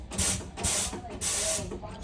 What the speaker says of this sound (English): I'm gonna just bump it and watch these clamps go in.